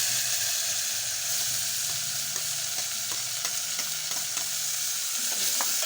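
Cumin, garlic, curry leaves and tomato sizzle hard in hot tempering oil for a sambar, a constant crackling hiss with small pops and stirring scrapes.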